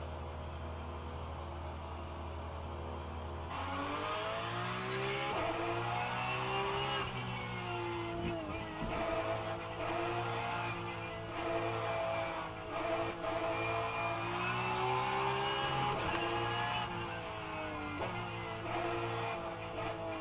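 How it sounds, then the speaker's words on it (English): A Porsche Cup race car engine in the rFactor 2 racing simulator drones loudly and continuously, revving up through gears with rising and falling pitch, simulated game engine audio with no talking. "how much I love the sound of the Porsche Cup car on rFactor 2"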